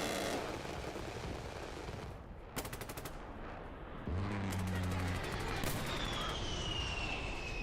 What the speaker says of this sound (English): Someone's taking pot shots from somewhere.